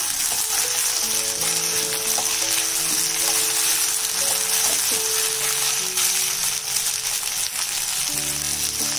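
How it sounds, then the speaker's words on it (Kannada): Peas and cauliflower fry in oil for a vegetable kurma, producing a loud, continuous close sizzle with light stirring clinks scattered throughout, steady from start to finish. "ಫಸ್ಟ್ ಇದೆಲ್ಲ ಚೆನ್ನಾಗಿ ಫ್ರೈ ಮಾಡ್ಕೋಬೇಕು"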